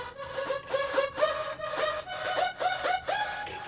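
A studio synthesizer with a harsh, bright upper end plays a steady run of repeated, rhythmic notes, loud and close with no voices over it.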